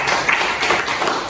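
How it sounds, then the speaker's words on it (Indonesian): Students in a classroom clapping for a group, a brief burst of many hands applauding, close and fairly loud with a dense, uneven patter. "tepuk tangan untuk kelompok"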